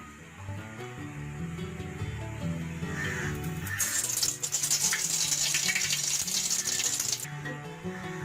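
Ghee hitting hot soybean oil in a wok for Bengali crab malaikari sets off a bright, steady sizzle that swells midway and holds for several seconds, close by under background music.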